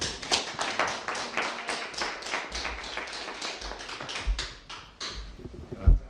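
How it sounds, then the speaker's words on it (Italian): Audience clapping for a guest on an Italian news programme, a scattered run of claps of moderate loudness with a few sharper hits, ending in a louder clap near the end. "Damiano, ti facciamo un applauso"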